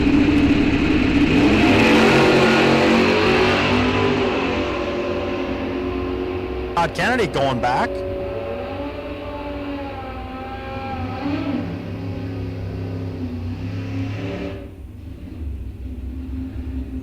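A Pontiac and a pickup truck launch in an ET bracket drag race at Rock Falls Raceway. Loud roaring engines rev hard and fade into the distance, and an announcer talks over the race.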